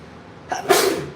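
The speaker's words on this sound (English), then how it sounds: "I'm gonna sneeze again." A single sharp sneeze, a short breathy intake followed by a burst, close and fairly loud against a quiet background.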